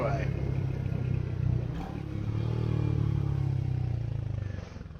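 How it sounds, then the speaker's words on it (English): Royal Enfield Hunter 350 motorcycle engine droning steadily while riding at night toward the motorway, a continuous low rumble under light wind noise, with talk over it. "It does sound like a good proper motorbike"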